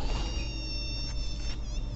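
A fly buzzes continuously in an animated cartoon, a thin, whining drone close by with slight wavering over a low background hum.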